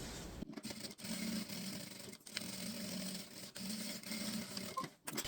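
A sewing machine runs a safety stitch along the seam of a fabric mini shoulder bag, a steady whirring hum in several continuous runs broken by short pauses, close and moderately quiet.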